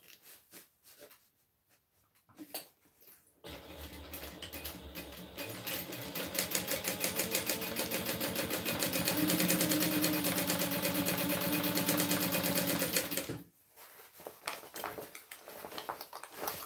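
A sewing machine runs in one long, continuous stretch of rapid needle stitching on a car trash can made of interfaced cotton, starting abruptly after a short pause and cutting off sharply, with quiet handling noises before and after.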